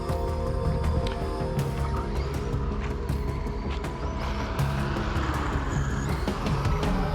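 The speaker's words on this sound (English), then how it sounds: "Lots of cars coming." Traffic on a road goes by in a dense, steady wash of engine and tyre noise, with a few sharp mechanical clicks and knocks near the microphone.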